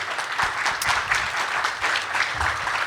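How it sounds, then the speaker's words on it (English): Audience at the Unpub board game design festival applauding a feedback panel, a lively, close round of clapping with uneven pulses and a few stronger claps, sustained for about three seconds. "So one more round of applause for our amazing panel up front."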